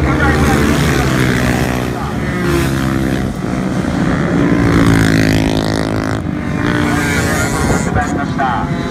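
A two-stroke scooter races down the straight at Akechi Hilltop Circuit during an intermediate-class mock race, its engine a loud, continuous buzzing drone that holds steady throughout, with excited commentary running over it.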